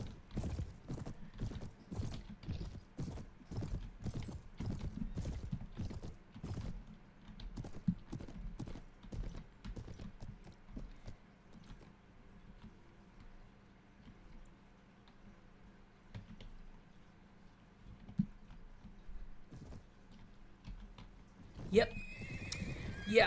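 Horses from the Mount & Blade battle game, ridden by horse archers, give a steady, fast clip-clop of hooves with repeated loud neighs and whinnies. The sound is dense at first, thins out midway, and runs under some voices.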